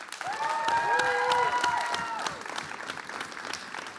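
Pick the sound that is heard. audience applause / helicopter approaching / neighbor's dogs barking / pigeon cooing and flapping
audience applause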